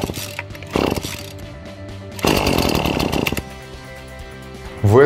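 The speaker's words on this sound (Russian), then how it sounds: "До первой вспышки триммер подхватит и тут же заглохнет." A petrol grass trimmer is pull-started with the choke closed: rasping starter pulls, then the engine fires and runs roughly for about a second before stalling, followed by another pull and brief catch.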